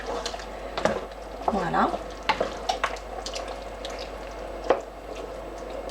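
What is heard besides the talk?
tomato pulp sauce simmering in a pan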